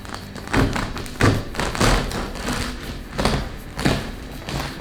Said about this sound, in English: If you tap the bread and you hear this hollow sound, that means that the bread is baked perfectly.